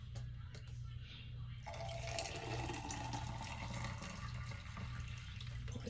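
Brewed coffee poured into a cup, a steady trickling liquid stream that starts a moment in and runs continuously, close by and fairly quiet over a low background hum.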